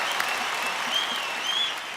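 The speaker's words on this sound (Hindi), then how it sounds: "big round of applause for Delhi police" A studio audience on a television comedy talk show gives a steady, even round of applause for Delhi Police, a continuous wash of clapping heard alone.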